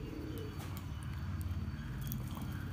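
Domestic pigeons cooing close by, soft low rolling coos repeating over a steady murmur, with a few faint higher chirps and no speech.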